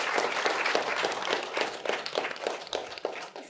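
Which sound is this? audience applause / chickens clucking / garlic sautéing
audience applause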